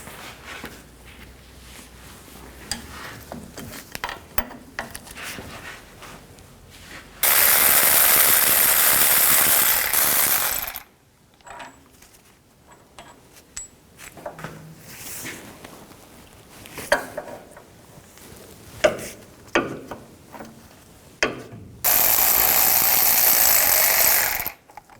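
A ratchet with a 15mm socket works hub bearing bolts loose on the knuckle of a 1999-2007 Chevy Silverado 2500HD, bursts of rapid clicking with two long loud spells of continuous harsh grinding noise between them.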